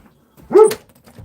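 A large dog gives a single loud, close bark followed by a faint, short yip, in a quiet setting without speech.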